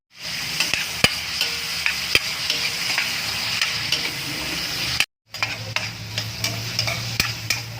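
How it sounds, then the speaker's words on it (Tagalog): Garlic and onion frying in margarine in a pan, a steady close sizzle with sharp scraping stirs and clinks of the utensil, briefly cut off before resuming with a deeper hiss. "Ito na ang ating aromatic, yung bawang at sibuyas. Lalaglag na natin yan"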